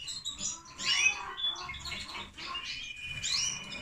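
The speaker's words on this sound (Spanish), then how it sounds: "Este de aquí es un pájaro que me gusta mucho." A caged bird, likely a goldfinch, chirping and twittering close by in short bright bursts over faint background noise.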